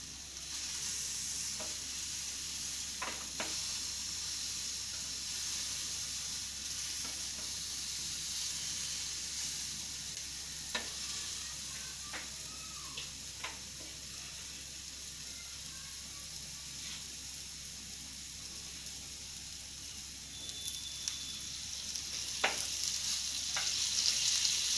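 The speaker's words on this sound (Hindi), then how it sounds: "इसको 1-2 मिनट फ्राई करना पड़ता।" Pineapple tikka pieces fry in butter in a pan with a steady, continuous sizzle and hiss, punctuated by occasional soft clicks and stirring taps, close and even throughout.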